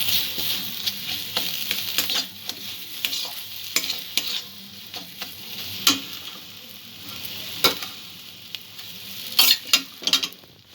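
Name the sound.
frying spices and ingredients in a pan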